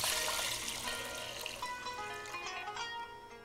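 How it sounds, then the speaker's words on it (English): Water poured into a pot of drained soaked rice in a home kitchen, a steady splashing pour that slowly softens over a few seconds, close and alone. "Into this, I will add 6 cups of water."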